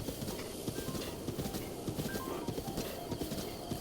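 Horse hooves clip-clopping at a quick, even trot in The Legend of Zelda: Breath of the Wild, close and steady throughout with faint ambient sound behind.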